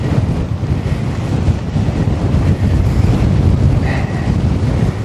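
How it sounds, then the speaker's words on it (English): Strong wind buffets a Rode Wireless Go microphone outdoors, a steady loud low rumble that fills the whole stretch without letup, with no voices over it. "Oh, the wind changes directions."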